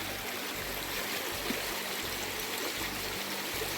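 River flowing through woodland, a steady broad rush of water heard close and fairly quiet, continuous without pauses or voices.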